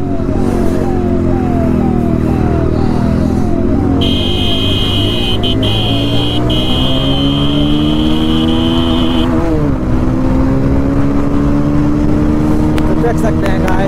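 Pulsar 220F motorcycle racing a Benelli 300 fitted with an Sc Project exhaust, engine droning loud and close throughout, pitch rising in repeated gear-change sweeps, with a high whine overhead for several seconds.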